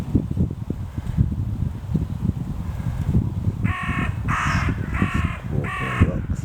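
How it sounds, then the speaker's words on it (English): Rooks caw outdoors on a breezy walk beside red sandstone walls, four harsh calls in a quick series partway through, moderately near, over steady wind and rustle. "So the rooks apparently are much more sociable than crows, so maybe they are rooks."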